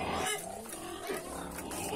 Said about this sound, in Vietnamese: Ở đây có chuồng lợn nhỉ?